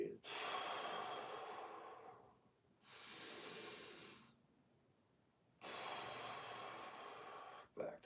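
Slow, deliberate breaths during a standing neck rotation stretch: three long airy inhales and exhales, close and fairly loud, each lasting a couple of seconds with quiet gaps between.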